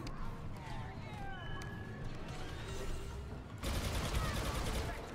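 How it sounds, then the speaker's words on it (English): Gunfire rattles through a Star Wars Battlefront II campaign battle, a steady mid-distance chatter of blaster shots under a voice, swelling louder and denser near the end. "Who the fuck is shooting at me?"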